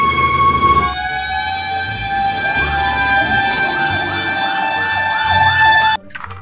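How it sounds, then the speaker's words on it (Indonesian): A toy fire truck plays its electronic siren, a loud warbling tone sweeping up and down over and over, close by, then cutting off abruptly near the end. "Wah, kalau yang ini pemadam kebakaran."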